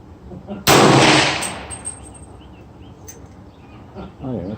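A single loud .300 Blackout rifle shot fired with GMX ammunition on a 100-yard range, sharp and close, its echo fading over a few seconds while birds chirp faintly behind.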